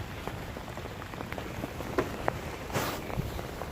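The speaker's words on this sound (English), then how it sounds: "It's starting to rain harder." Rain falls steadily outdoors during a fishing trip, a dense close patter of drops on the surface with a few louder splats and no voices.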